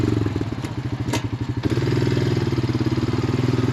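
An old Honda ATV engine chugs nearby as it is driven in first gear, giving a rapid, even putter with a few clattering thumps in the first half before it settles into a steady rhythmic run.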